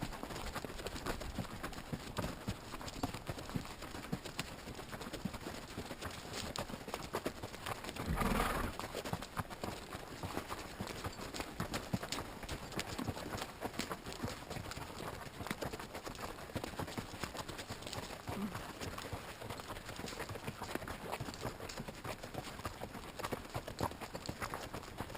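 A horse on a trail ride to San Lorenzo Canyon clip-clops steadily along, its hoof beats even and close throughout, with one short burst of noise near the start of the second third.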